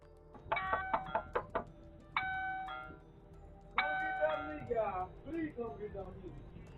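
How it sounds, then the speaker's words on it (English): A Ring video doorbell chimes in several bright, ringing tones, repeating a short melody twice with a gap, while voices murmur faintly underneath. "nobody answered the doorbell. A Ring doorbell footage captured this."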